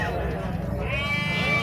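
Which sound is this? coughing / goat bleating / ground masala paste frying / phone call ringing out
goat bleating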